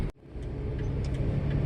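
A truck engine's turbo whines steadily under a continuous low road drone, loud and close from inside the cab, with a brief dip in sound near the start.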